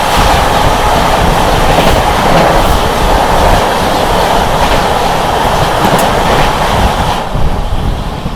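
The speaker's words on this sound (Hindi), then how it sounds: "सामने से आती हुई भुवनेश्वर नई दिल्ली तेजस राजधानी।" A Bhubaneswar–New Delhi Tejas Rajdhani express train rolls past in fog, a loud, steady roar of rumbling wheels and rattling coaches filling the whole stretch and easing slightly at the end.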